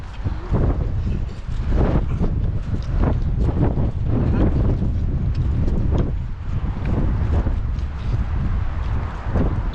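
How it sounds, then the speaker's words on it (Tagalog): Strong wind roars steadily across the microphone with gusty buffeting throughout, loud and close, faint talk buried beneath. "Kanina hindi mahangin. Ngayon mahangin na."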